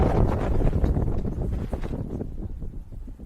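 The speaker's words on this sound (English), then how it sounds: "And a big gust of wind." A strong gust of wind buffets the microphone at an outdoor baseball game, a loud low rumbling roar that peaks at the start and slowly eases off over a few seconds.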